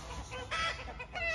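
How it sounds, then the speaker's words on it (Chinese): A young rooster clucks close by in a few short bursts, with faint background noise around it. "不是它，是个小公鸡儿。"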